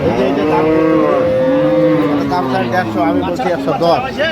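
Several cattle, dairy cows and calves, moo loudly and close by at Ambari market in Dinajpur, Bangladesh, long drawn-out calls overlapping one another, with a busy crowd chattering underneath.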